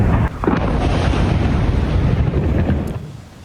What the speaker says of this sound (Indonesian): serangkaian ledakan mengguncang Mais Al-Jabal